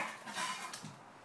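Kitchen knife topping and tailing onions on a chopping board, a couple of brief clattering knocks close by, with no voices.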